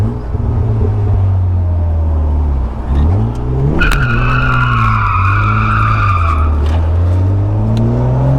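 A BMW E36 cabriolet kicked through the clutch, its engine droning and revving up and down while the tires let out a loud, sustained squeal partway through, heard close up with no talking.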